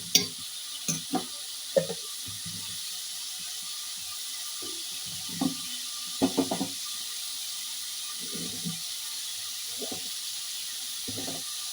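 Onion and ginger paste fry softly in a pan while a spatula stirs in sparse scrapes and taps, with a faint steady sizzle underneath and no talking.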